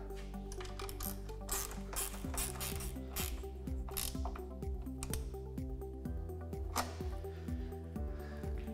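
Bolts being tightened on an RBO front folding windshield on a Polaris Ranger XP 1000, a steady run of close mechanical ratcheting clicks with no talk.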